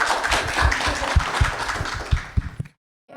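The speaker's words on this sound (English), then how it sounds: "Please give a round of applause to our panelists." Close, lively applause for a panel from a small group with distinct individual claps, stopping abruptly near the end before a faint rustle.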